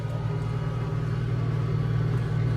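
A tractor engine wound up to full throttle for chopping hay, holding a steady, loud, low droning rumble at close range throughout.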